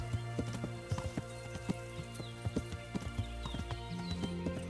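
Rapid horse hoofbeats clatter steadily over a busy background with a horse whinny rising briefly, no talking, in the video game Kingdom Come: Deliverance.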